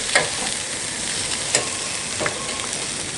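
Rib eye steaks sizzle and fry steadily on a camp grill outdoors, with a few soft clinks and scrapes as they are turned; no talking.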